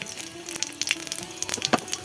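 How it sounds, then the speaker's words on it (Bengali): Panch phoron spices crackle and sizzle in hot oil in a village kitchen, dense irregular popping close up, with no talking, as a winter vegetable dish of cauliflower, kohlrabi, beans and potato is started. "এবার আমি তেলে 5 ফোড়ন দিয়ে দিলাম।"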